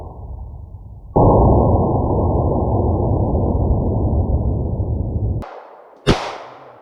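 Two sharp pistol shots from a Ruger LC9 cut off a steady broadband roar, the first blast trailing into echo and the second following less than a second later during a concealed-carry defensive drill.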